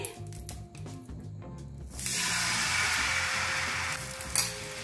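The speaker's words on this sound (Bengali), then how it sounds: "প্যানে আমি ব্যাটারটা দিয়ে দিচ্ছি" Soft clatter and thuds, then batter hits the oiled pan and a loud, steady sizzle rises and continues to the end.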